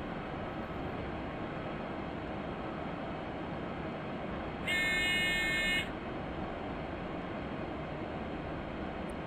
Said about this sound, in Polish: Niemiecki pociąg ekspresowy.